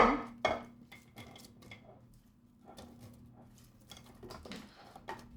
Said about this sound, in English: Now I mix the onions and the garlic and the sugar in a large bowl.